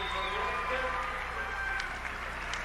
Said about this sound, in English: get some applause from the crowd